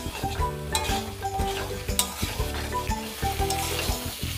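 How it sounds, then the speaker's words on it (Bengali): Peas and potatoes stir-fried with spices in a pan for ghugni, a steady close sizzle and fry with repeated scraping stirs and light clinks throughout, no talking. "আমি এভাবে আবারও সুন্দর করে কষিয়ে নেব মটর আর আলুগুলো মশলার সঙ্গে"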